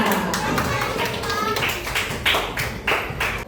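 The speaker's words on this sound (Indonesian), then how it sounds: "tepuk tangan dulu semuanya" A classroom of children claps together in a bright, uneven patter of hand strikes, with voices mixed in and a few louder bursts toward the end.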